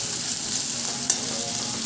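Chicken with chopped onion and tomato frying in a pan, a steady close sizzle with stirring scrapes and one sharp clink of a utensil partway through, no speech.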